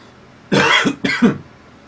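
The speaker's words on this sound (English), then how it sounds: "I coughed into my right fist" Two short, close, dry coughs into a fist, one right after the other with a brief gap, loud and unaccompanied by speech.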